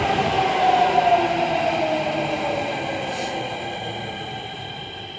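A Noida Metro train rolls into a station with a smooth rushing rumble and a high wheel squeal early on, then gradually eases off as it slows.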